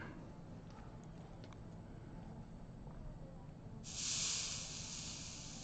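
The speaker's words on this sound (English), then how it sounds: "you can see the steam weep out into the wood there" Steam hisses into the wood of a Taylor guitar during a repair, a steady faint hiss that swells into a brighter, louder burst for the last couple of seconds, with no talking.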